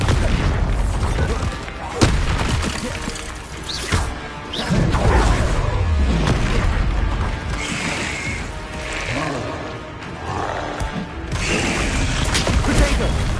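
Bombarda explosion spells and other combat spells in the Hogwarts Legacy video game, a string of booming blasts, crashes and mechanical clanks mixed with a voice calling out spell names.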